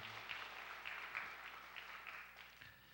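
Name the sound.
congregation applauding in church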